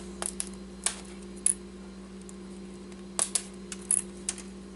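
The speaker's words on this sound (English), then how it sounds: "looking at someone taking off keys" Plastic keys snap off an old wireless keyboard in sharp, isolated clicks and pops, scattered irregularly over a quiet background with a steady low hum.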